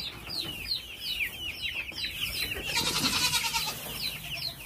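Chickens and meat birds cluck and chirp in quick repeated calls close by, with a brief burst of busier squawking partway through.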